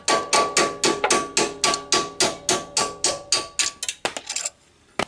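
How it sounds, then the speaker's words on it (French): Metal hammer strikes a pin to drive it out of a Renault Twingo driveshaft during clutch work: about a dozen sharp, ringing blows in a fast, steady rhythm, then a few looser taps before quiet. "Coup de marteau."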